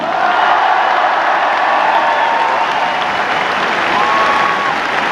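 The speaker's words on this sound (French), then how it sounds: "je vous demande d'applaudir très chaleureusement" A large crowd at a political rally in Bercy, Paris, applauds loudly and continuously, dense clapping with occasional cheers and whoops mixed in, steady from start to finish.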